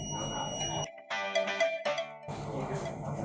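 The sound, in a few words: buzzer alarm of sanitizer prototype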